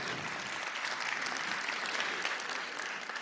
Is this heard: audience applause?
yes